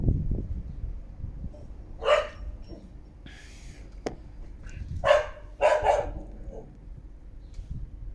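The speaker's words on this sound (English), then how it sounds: "That's a dog yapping, chasing the other dog next door." A small dog yaps in short sharp bursts, a single yap then a quick pair later, over quiet background with a few knocks.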